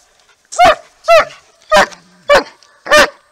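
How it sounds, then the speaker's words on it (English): Dogs bark loudly and close by, five sharp evenly spaced barks about half a second apart, with no other sound between them. "we have these dogs barking"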